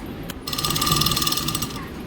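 Sewing machine stitching the hem of a door curtain, a fast, steady mechanical whir of the needle running for about a second and a half after a brief tap, close and alone without talk.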